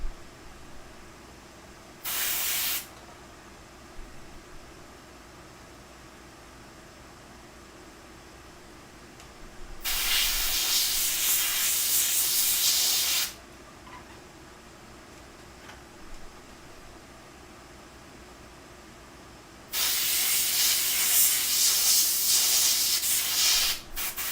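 An airbrush spraying shadows onto the face of a custom Frankenstein-style figure: three bursts of hissing spray, a short first puff, then two longer sustained blasts of several seconds each, separated by quiet room tone.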